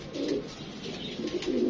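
Baby highflyer pigeons coo softly in low, rolling murmurs, a close and continuous warbling with no voices over it.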